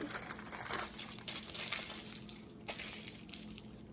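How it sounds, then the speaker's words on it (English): Aluminum foil is rolled up and crumpled by hand in a kitchen, a quiet close-up run of crisp crinkling and crushing rustles that rise and fade in small bursts. "Now I'm going to take my aluminum foil, roll it,"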